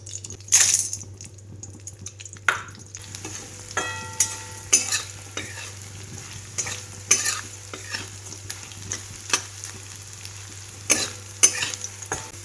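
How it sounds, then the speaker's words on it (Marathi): Edible gum frying in plenty of ghee in a kadai over low heat, a soft steady sizzle with repeated spoon stirs and scrapes against the pan. "डिंक चांगला तळून घ्यायचा आहे, त्यामुळे कढईमध्ये जास्त तूप घातलेले"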